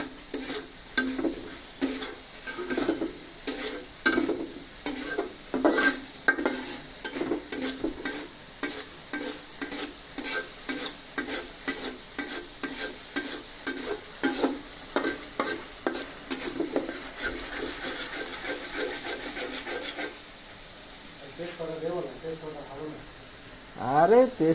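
Masala stirred and frying in a pan, with a steady run of repeated scraping strokes over a continuous sizzle, voices talking underneath, then stirring giving way to a hiss near the end.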